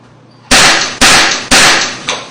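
A juice container swollen by bacterial contamination after opening bursts in a reenactment: three loud, sharp bangs about half a second apart, each decaying quickly, then a smaller fourth pop.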